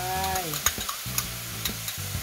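Oyster sauce goes into a wok of stir-fried Mama instant noodles with mussels, giving steady sizzling frying noise with a spatula scraping and tapping rhythmically, close and loud, while a voice talks over it.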